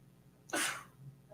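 A single sharp sneeze bursts out in an otherwise quiet room, brief and close.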